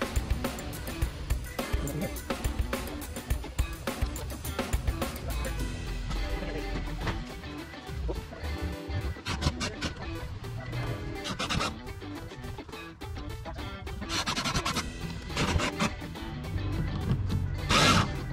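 Small screws being driven into a splitter on a Corvette C8, with uneven bursts of tool whirring, scraping and clicking up close, some sharp taps and a brief pause partway through.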